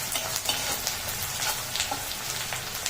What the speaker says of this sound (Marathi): आपण पुन्हा एकदा परतून घेऊया कांदा.